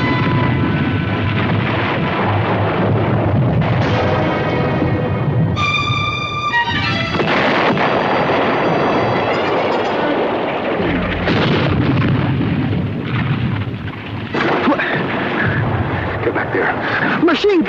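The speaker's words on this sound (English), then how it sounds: "Machine gun! Get back." A 1963 black-and-white TV war drama's battle scene fills with loud machine gun fire and booming explosions, heavy and sustained, while shouting soldiers' voices break through the din.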